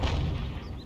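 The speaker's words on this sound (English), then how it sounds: "that's a good shot from the Panzer" A single deep boom from a Panzer IV Ausführung H tank gun firing in a tank video game, a heavy low thud with a short rumbling decay.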